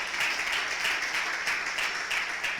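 A church congregation claps in praise during a service, a moderately loud, fairly even patter of many hands with a faint rhythmic pulse, sustained throughout without speech.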